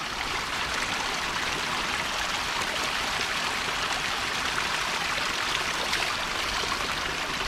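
A mountain stream near Bells Canyon Reservoir, Sandy, Utah, rushes and babbles steadily and close by as water is collected, a continuous bright wash of flowing water with no voices.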